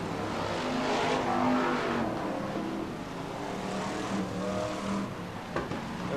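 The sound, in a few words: BriSCA Formula 1 stock cars passing start-finish point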